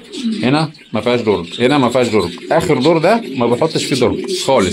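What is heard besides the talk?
pigeons cooing in a loft cage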